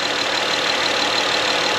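Engine of a 2016 Honda Odyssey parts car running steadily at idle, a continuous even drone with no breaks or surges, close by and alone without voices.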